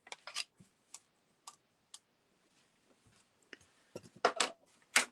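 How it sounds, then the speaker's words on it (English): Manual die cutting machine being cranked to cut a scrapbook paper panel, a series of sharp close clicks and ratchety ticks spaced irregularly, louder toward the end, no talking. "I'm just going to die cut this panel."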